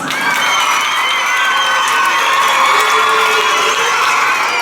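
Schoolchildren and onlookers cheer, shout and clap for a girl winning a primary school golf championship, a bright, continuous wall of crowd noise with high voices rising throughout.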